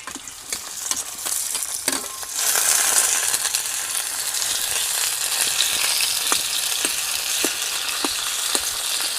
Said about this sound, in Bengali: এটা ভালো করে ভাজা হয়ে গেছে এর মধ্যে দিয়ে দেবো সিদ্ধ আলু